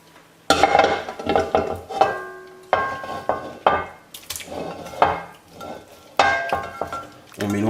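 Mushrooms tipped into a pan of beef tongue in Madeira sauce back on the heat, followed by close, repeated stirring scrapes and clinks of a utensil against the pan with a light sizzle, in uneven bursts.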